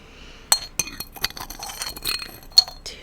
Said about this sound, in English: We've got 1 scoop of sugar